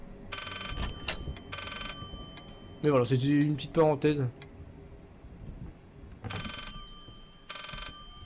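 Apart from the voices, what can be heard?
telephone ringing in the background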